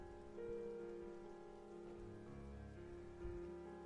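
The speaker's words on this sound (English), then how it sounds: "this background music is just Thunder and Rain Halo ODST piano for 8 hours" Rain and thunder ambience from Halo ODST, steady close rainfall pattering on surfaces with faint low rumbles beneath a soft piano tone.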